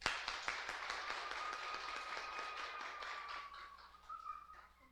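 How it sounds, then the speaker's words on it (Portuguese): Audience clapping at a talk on autism, a burst of quick sharp claps that thins out over a few seconds, fairly faint, with a steady high electronic tone sounding alongside. "Agora batam palmas de novo."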